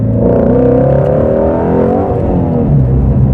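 A car accelerating hard in sport mode on poor-quality E85 fuel, a loud close engine roar that rises in pitch as it revs through the run, with no talk over it.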